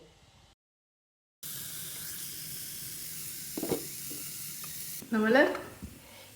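Appam batter cooks on two pans in a home kitchen, giving a steady close hissing sizzle that runs on after a brief silence, with a couple of light utensil clatters and a louder flare of sizzling near the end.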